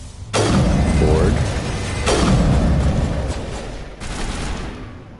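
Gunfire in the sci-fi shooter Mass Effect, with three heavy bursts of shots and booms, spaced about two seconds apart, under a continuous rumble and a voice.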